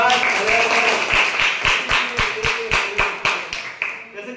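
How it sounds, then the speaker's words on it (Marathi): Schoolchildren and an audience at a school quiz event clap for a girl in a steady, evenly spaced rhythm of sharp claps, under a voice speaking at the start, the claps rising and then fading out. "टाळ्या वाजवा या मुलीसाठी."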